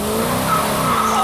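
A Plum Crazy Dodge Challenger accelerates hard as its tires squeal in a loud, sustained screech over the engine's roar, heard up close.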